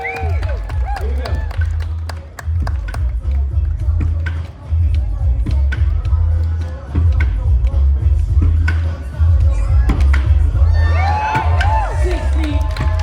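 A live crowd at a pogo stick stunt show cheers, whoops and claps loudly, with bursts of shouting swelling and easing over a deep rumble while a voice talks briefly near the end.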